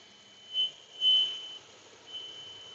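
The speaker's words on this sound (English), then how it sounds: "My toll transponder is beeping at me" A toll transponder inside a car driving in Oregon gives three short, high electronic beeps, faint over a low, steady road hum, the middle beep the strongest.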